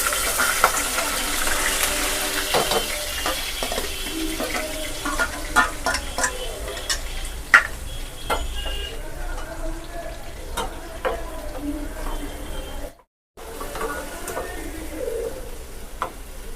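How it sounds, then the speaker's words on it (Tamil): Ground onion fries in oil in a kadai, giving a steady close sizzle with scattered crackles and stirring scrapes, while a bird coos in the background and a voice speaks briefly. "கடாயில் எண்ணெய் ஊற்றிக்கலாம். அரைச்சி வச்ச வெங்காயம் போட்டுருவோம்."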